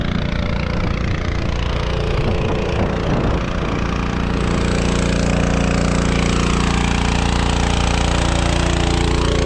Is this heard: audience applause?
no